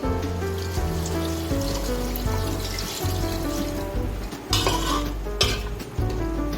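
A loud sizzle and stirring clatter in a pan of frying mutton, with a sudden hissing burst as water is poured onto it, repeating briefly near the end.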